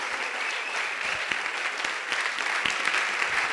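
A church congregation applauding at the close of a Sunday morning sermon, dense steady clapping from a large crowd that fills the room continuously, with no talk over it.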